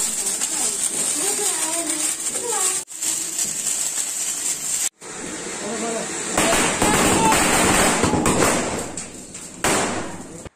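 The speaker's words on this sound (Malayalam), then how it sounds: "ഇപ്പം ഇതിനു മുന്നിൽ പൊട്ടിയത് മാലപ്പടക്കമാണ്." A string of firecrackers bursts during Vishu celebrations at a home, dense rapid crackling that swells loud from about six seconds on, while people talk throughout.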